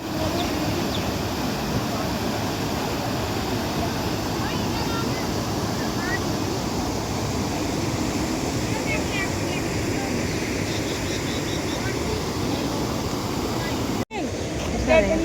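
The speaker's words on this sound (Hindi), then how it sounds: "पानी की आवाज कितनी तेज है" Loud, steady rushing of fast-flowing canal water fills the whole clip, a continuous roar close by that cuts out briefly near the end.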